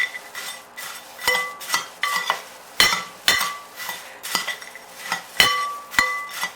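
A spoon stirs puffed rice and salted peanuts together in a bowl, making a run of irregular clinks, scrapes and rustles up close.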